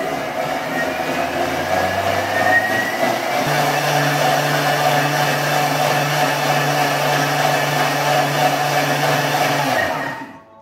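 A kitchen machine whirs steadily for about ten seconds as it mixes and crushes tomatoes into a sauce for a Swiss chard gratin. Its motor drone is loud and even, the pitch shifts partway through, and it winds down at the end.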